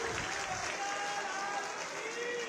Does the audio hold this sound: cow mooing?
no